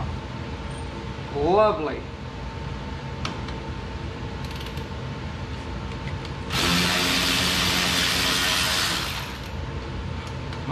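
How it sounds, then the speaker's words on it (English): A brand-new Milwaukee 3/8 battery-powered ratchet spins off a brake-caliper bolt in a shop, giving a loud, close whirring burst of a few seconds after some clinks and handling noise, with someone speaking briefly. "Milwaukee 3/8 battery powered ratchet. First bolt that's ever taken off."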